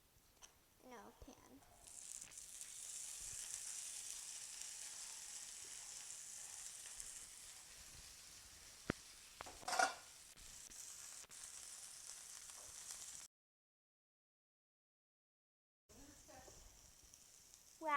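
Grease sizzles steadily in a frying pan before broccolini is cooked, a bright continuous hiss that rises and holds, broken by a few clinks and scrapes, with a person talking at the start.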